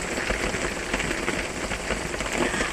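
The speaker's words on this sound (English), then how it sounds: "It's raining for sure." Steady rainfall during a thunderstorm in the Carolinas, drumming on surfaces around a small self-built cabin, an even, close wash of drops that holds constant with no talking.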